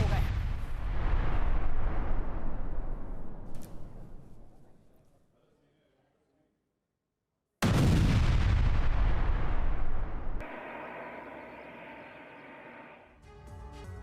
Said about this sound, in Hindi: यूक्रेनी सैन्य वाहनों पर की गई बमबारी।